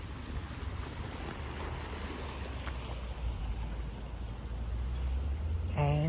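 Steady wash of water and wind near the Verrazzano Narrows Bridge between Brooklyn and Staten Island, a constant rushing roar that swells slightly toward the end.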